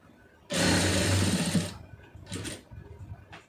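A sewing machine stitches along folded cloth in one loud, fast, steady run of about a second, then stops, leaving only faint scattered handling noises.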